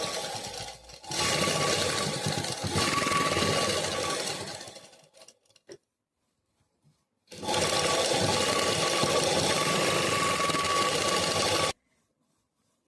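A sewing machine stitches a blouse seam in two long steady runs of continuous whirring, close and fairly loud, separated by a few seconds of near silence.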